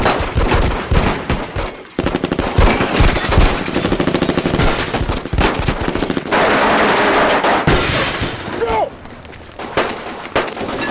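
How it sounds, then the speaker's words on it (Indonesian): An action-film shootout fills the scene with loud, sustained bursts of rapid automatic gunfire and overlapping single shots, nearly continuous with only brief pauses. "Dan tak lama kemudian aksi tembak-menembak pun terjadi."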